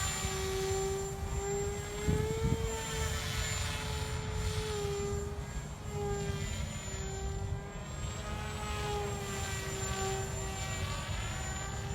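Kopaqi 950mm FPV delta wing RC plane motor cruising at just under quarter throttle, a steady whining drone that shifts slightly in pitch as it flies past, over constant wind noise.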